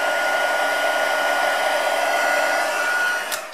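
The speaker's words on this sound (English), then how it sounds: "You can actually move the water with the heat tool." A heat tool blows hot air across wet paint water on paper in a paper-crafting setting, giving a loud, steady, close roar that runs unbroken until it tapers off near the end.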